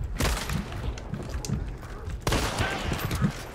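Gunfire in the video game Hunt: Showdown, a few sharp reports and thuds scattered over a few seconds, one heavier blast midway, fairly faint under voices.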